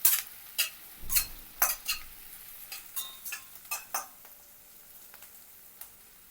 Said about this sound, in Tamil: இப்போ இதோட பச்சை மிளகாய் ரெண்டு பச்சை மிளகாய் கொஞ்சம் கருவேப்பிலை சேர்த்து வதங்கி வரட்டும்